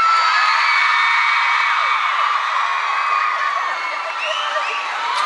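A concert crowd at a show in Berkeley cheers continuously, with dense, high-pitched screaming and whooping that stays loud from start to finish.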